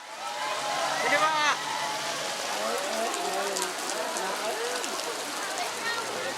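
Heavy rain falling over a village where residents wait outdoors, a dense steady hiss and patter of drops close by, with indistinct voices murmuring underneath.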